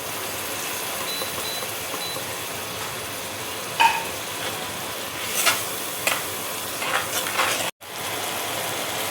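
Coriander and cumin powder masala with a splash of water sizzles steadily in a pan for bhindi do pyaza, a constant close frying hiss broken by a few brief stirring scrapes and clicks.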